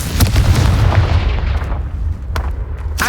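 A Confringo fire spell bursts in a Harry Potter video game, giving a loud booming blast with a rumbling low tail, followed by a few sharper cracks later in the short stretch.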